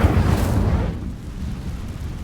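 In Hogwarts Legacy, an Incendio fire spell is cast with a loud, deep whooshing roar of flame that bursts at once and then settles into a lower, rumbling sustain.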